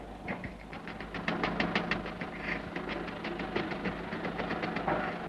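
A voice imitates a moving train, making rapid, rhythmic chugging puffs that pick up pace and carry on steadily for several seconds, close and fairly quiet.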